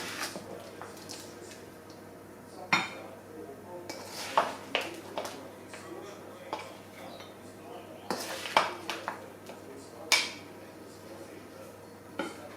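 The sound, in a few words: spooning food into a dish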